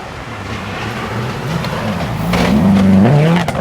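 David Higgins' rally car races through a stage of the 2012 STPR Rally, its engine growling and building to a louder, closer rising rev over steady road and wind noise.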